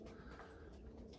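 Pigeons cooing outdoors, a low, soft, continuous murmur of several birds under faint background noise, with no voices.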